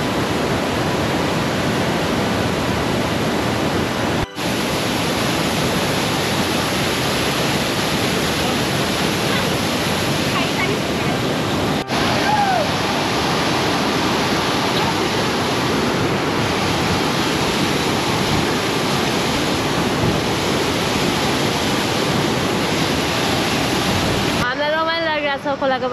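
A river stream flows beside the Langtang trek trail, a steady, broad rushing of water that stays loud and constant throughout, with light wind buffeting the microphone.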